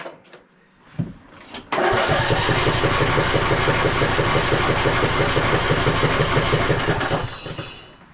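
A free tractor's engine cranks hard without catching, a loud, steady, rhythmic chugging that runs for about five seconds after a brief start-up noise, then cuts off.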